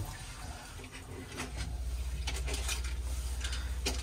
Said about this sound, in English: As long as your pump's on, you'll get a pressurised flow of water.